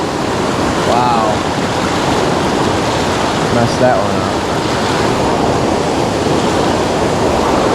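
Fast-flowing river water rushing steadily and loudly close by during a fly-fishing trip for brown trout, a broad continuous wash under a man's brief exclamation.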